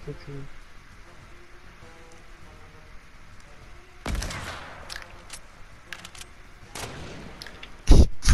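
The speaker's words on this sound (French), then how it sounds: "il tire à travers le mur" Gunfire rings out in the Fortnite video game, with a few sharp bursts of shots mid-clip and near the end over a low background, and voices murmur faintly underneath.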